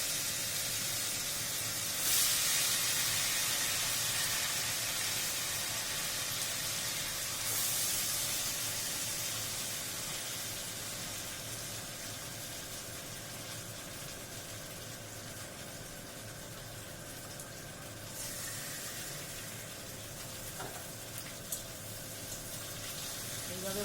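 Slices of ash gourd coated in cornflour, salt and turmeric batter sizzle in hot oil with a steady hiss and crackle, a few louder spurts as pieces go in, under occasional talk.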